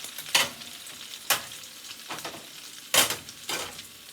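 Shrimp egg foo young fries in a pan with a steady sizzle, broken by several sharp bursts of spatter and stirring scrapes, close and fairly loud, with no talking.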